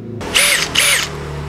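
A Makita HP002G 40V brushless cordless hammer drill is fitted with a spade bit and runs at speed 2 in drilling mode. It whines up loud twice in quick, short bursts, each rising and falling in pitch, with no talk.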